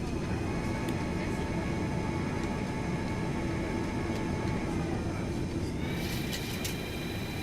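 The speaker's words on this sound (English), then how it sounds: "Can I just get a like for the freaking flap sounds on this airplane?" Wing flaps extend on a FlyJSim 737-200 in a flight simulator, a steady mechanical whine over constant engine and airframe drone, with the tone shifting and rising near the end.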